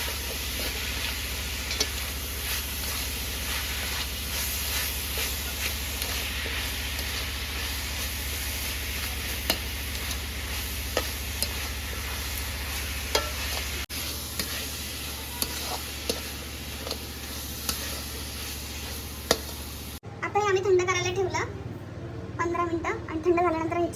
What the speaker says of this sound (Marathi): हे परत आपण चांगलं परतून घेऊया